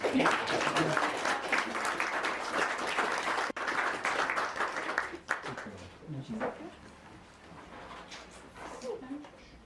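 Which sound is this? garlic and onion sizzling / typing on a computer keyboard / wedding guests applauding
wedding guests applauding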